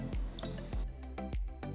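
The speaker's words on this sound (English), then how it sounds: "Add a little water, mix it well." Cornflour and water stirred into a slurry in a bowl, giving a run of soft, wet squishing strokes with faint clicks of a spoon, close and fairly steady with no talk.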